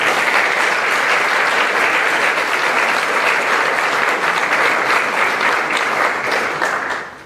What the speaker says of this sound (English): Please give all of them a warm round of applause.